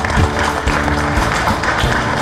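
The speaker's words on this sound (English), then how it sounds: "give them another round of applause" Loud audience applause at a business forum event, dense continuous clapping mixed with crowd noise and some voices, sustained throughout without a clear start or finish.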